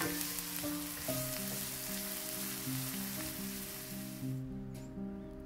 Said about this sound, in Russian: я отправляю лук и обжариваю буквально 5 минут на среднем огне